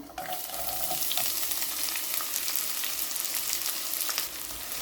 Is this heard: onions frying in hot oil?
yes